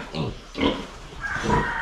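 Piglets grunting and snorting in short bursts, close by, with a few louder squeaky grunts toward the end.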